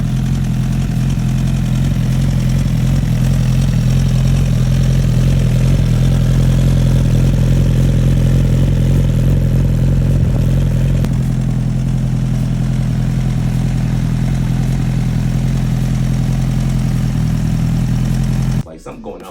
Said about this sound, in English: I did have an exhaust leak on my number 2 header